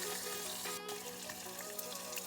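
Pieces of katla fish sizzle in a pan during a first frying for a Bengali mustard fish curry, giving a soft, steady crackle and hiss with no talking.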